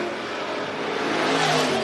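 A dirt track race car spins down the front stretch at Phillips County Raceway, a loud, rising engine roar and whir that swells toward the end, with no talk.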